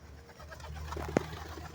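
Pigeons cooing outdoors, a soft low murmur of coos running throughout, with one brief sharper sound standing out near the middle.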